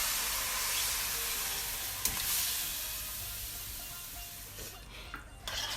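Coconut milk hitting a hot pan while making coconut mac and cheese, a steady close sizzle and bubbling with a few soft stirring scrapes and a brief clink, no voices.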